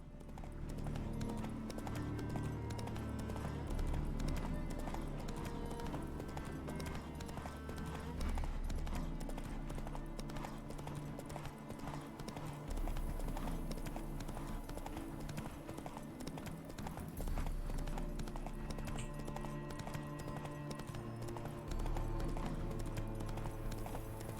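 Hooves of a horse galloping in The Witcher 3: Hearts of Stone, a steady rapid clip-clop running on and on beneath game music, with a brief whinny and a voice talking over it at times.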